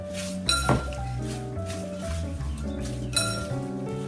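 Spinach and strawberry salad with onions and dressing is tossed in a bowl, with bright clinks and knocks of utensils against the dish scattered over a few seconds nearby.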